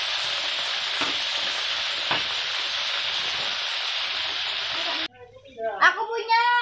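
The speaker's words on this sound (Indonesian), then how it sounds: "Saatnya menggoreng." Chicken pieces fry in hot oil for a Indonesian-style fried snack, a loud steady sizzle that cuts off abruptly, followed by people talking.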